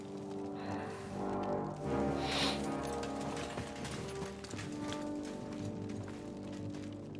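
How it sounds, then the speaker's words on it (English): Horses gallop in Kingdom Come: Deliverance 2, steady hoofbeats mixed with a dense game soundscape that stays loud throughout. "Bring the horses!"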